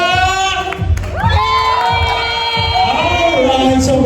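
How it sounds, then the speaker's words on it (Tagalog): Loud crowd cheering and shouting at an 18th birthday celebration, continuous whoops and screams with children's voices over a steady low rhythmic beat. "pwede po bang mas malakas na hiyawan for Bea?"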